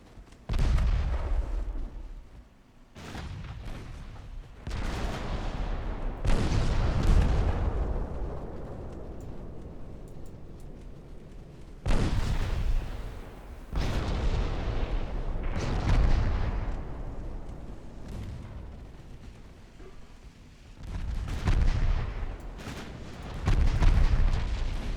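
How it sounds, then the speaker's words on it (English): A destroyer's secondary guns in the naval game Ultimate Admiral Dreadnoughts fire in repeated heavy booms, each followed by a rumbling decay, in irregular bursts across the stretch. "Secondary guns on the destroyer, please."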